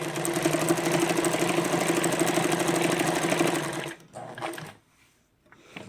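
A Dressmaker SL-2010 sewing machine runs steadily while stitching a zigzag pattern, a loud rapid mechanical whir for about four seconds before stopping abruptly, followed by a few faint clicks and handling noises.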